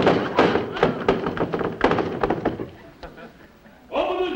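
A fist pounds on a locked door in a series of heavy thuds, close and fairly loud, with a voice shouting at the end.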